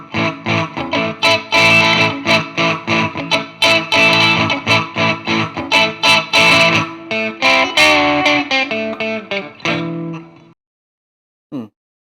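An electric guitar played through distortion on the bridge pickup in a rhythm part, with loud, chugging, rhythmic chords that stop near the end, followed by a brief final strum.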